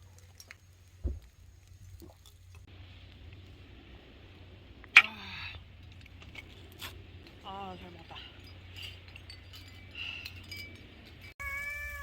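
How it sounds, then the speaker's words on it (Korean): Cats meowing at a seaside campsite, several faint, wavering meows scattered across the clip amid quiet outdoor ambience, with a few clicks and rustles and people talking softly. "지금 고양이 세 마리가 저희 사이트에 와 있네요"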